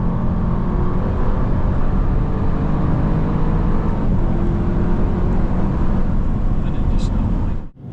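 A 2020 Audi RS6 Performance at speed on the Goodwood circuit: a steady, loud, dense engine and road roar with no letup across the whole stretch, ending in a sudden cutoff at the close.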